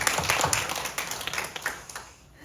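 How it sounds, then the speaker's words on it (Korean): A church congregation claps for the children as they leave for the next room, a moderate burst of scattered hand claps that thins out and fades toward the end. "우리 옆방으로 가는 친구들을 박수하도록 하겠습니다."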